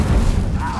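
An Incendio fire spell fires in the Hogwarts Legacy video game as a short, loud, booming blast with a rumbling low thud that fills the whole moment.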